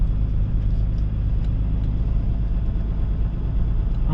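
Semi trucks driving by, heard as a continuous low engine rumble that holds steady and close throughout, with no distinct pass-by peaks.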